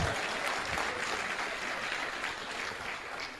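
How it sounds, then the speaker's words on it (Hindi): A small crowd claps at an Amway demo kit session, a steady burst of applause at fairly close range lasting the whole moment, with faint voices underneath. "बजाओ ताली भाई"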